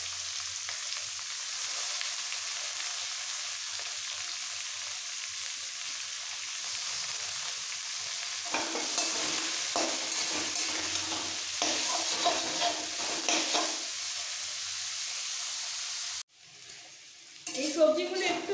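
Carrots, beans and cabbage sizzle and fry in a pan for homemade egg chowmein, a steady close hiss with intermittent stirring scrapes, ending in a brief clatter of the utensil.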